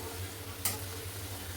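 Onions fry in a pan with a faint, steady sizzle and a single spatula tap partway through, with no voices.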